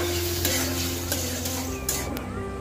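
Mutton stir-fried in a pan with a little water, giving a steady loud sizzle with scraping stir strokes and occasional utensil clicks throughout.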